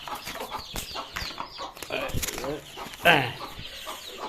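Chickens cluck and squawk nearby, a busy cluster of short calls with one louder, sharper cry near the end.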